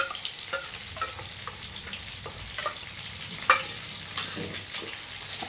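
Mustard paste and ginger garlic paste fry in hot oil with a lively, close crackling sizzle, while a stirring spoon scrapes through it and gives one sharper clink partway through.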